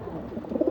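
Pigeons cooing in a rooftop loft, a few soft low coos rising toward the end of a brief stretch, close and moderately loud with no talk.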